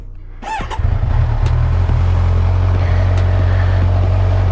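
A Kawasaki Ninja 1000 SX motorcycle engine cranks with a short starter whir, then fires and settles into a steady, close, loud idle with a strong low throb.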